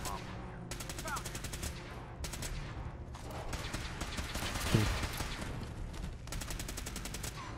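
Pipe rifle fire in Fallout 4: repeated bursts of rapid gunshots with brief gaps between volleys, fairly loud over a busy background, and speech faintly mixed in.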